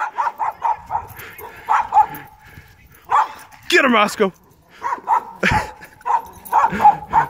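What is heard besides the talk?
dog barking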